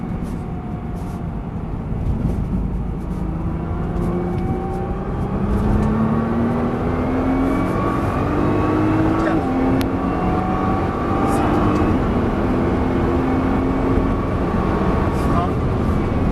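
A Nissan GT-R accelerates hard on the Issoire race track, its engine note climbing in rising harmonic sweeps under steady loud wind and road roar, with someone talking throughout.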